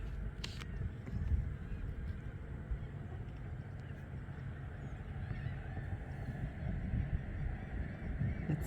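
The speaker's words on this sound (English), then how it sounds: "And there's birds out on those pylons" Birds perched on pylons out over the water at Bay St. Louis give repeated goose-like honks, heard at a distance under a steady wash of wind and water noise.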